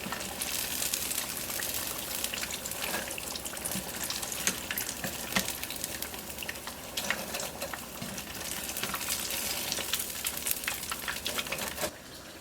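Battered fish deep-frying in hot oil gives a steady, dense sizzle and crackle close by, continuous for several seconds before cutting off at the end.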